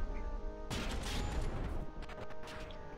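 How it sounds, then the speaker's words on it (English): Turret gunfire in the naval battle game From the Depths, staggered rather than fired in clean volleys, comes as a dense, continuous wash of overlapping shots and impacts that surges after a quiet start and stays loud throughout. "Especially with it staggering its fire, like it's not firing in pure volleys"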